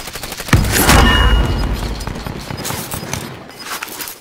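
Gunfire rings out in a video game battle royale fight, a loud burst of shots opening the exchange and then continuing as a sustained fusillade of rapid gunshots close by, with no talk in the clip itself.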